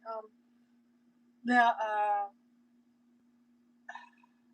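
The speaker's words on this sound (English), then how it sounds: "I got a burp. Sorry, excuse me." A person burps at close range during a casual cooking session, a short voiced belch standing out against a steady low hum, with brief talk before and after it.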